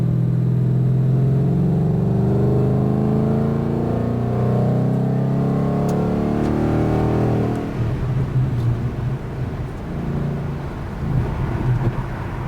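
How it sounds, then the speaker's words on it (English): A Ford Mustang GT with an MRT KR axle-back exhaust rumbles deep and loud, revving up through a sustained throaty roar before settling into a rougher idle. "Definitely has a nice deep baritone muscle car sound."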